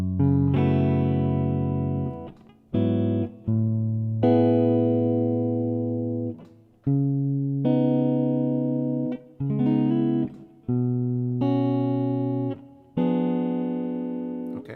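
A guitar plays the first half of a song, a slow run of ringing chords and picked notes that each decay before the next, close and clear, with no voices.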